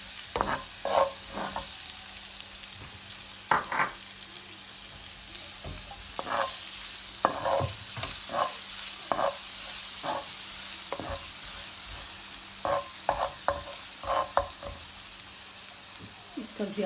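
Garlic sizzles quietly in hot oil in a pan, with frequent light scraping and stirring taps against the metal.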